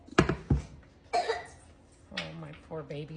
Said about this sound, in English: Oh, my poor babies have a terrible cough.